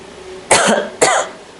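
Two sharp, close coughs about half a second apart, with quiet in between.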